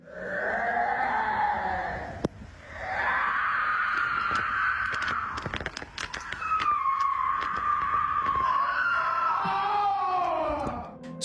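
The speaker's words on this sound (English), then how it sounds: "Screams rang out from deep within the cave." Long, wavering screams echo from deep inside a cave, several drawn-out cries rising and falling in sequence, loud and reverberant, broken by sharp knocks and rustles.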